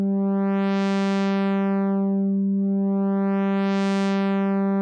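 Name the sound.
Bazille synthesizer oscillator changing from sine to saw wave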